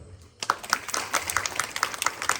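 An audience claps together in quick, fairly even beats, close and moderately loud, in a short burst with no talking over it.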